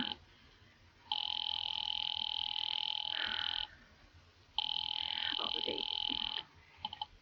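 Telephone line ringing as a call is put through to the police department in a 1940s radio drama, two long steady electronic rings with a pause between, fairly loud and clear with no talk over them.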